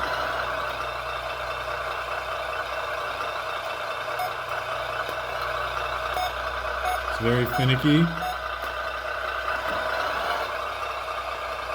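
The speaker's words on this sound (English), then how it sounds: "There's a noise trigger, and that's the reverse sound." A few quick electronic reversing beeps from an RC truck sound kit sound around the middle, over a steady mechanical hum, with someone talking now and then.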